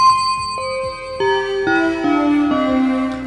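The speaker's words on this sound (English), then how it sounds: "you can hear the strings and the bells" A Yamaha Montage keyboard split into sections rings out bell-like chimes layered over sustained string tones, several notes struck in sequence, clear and close.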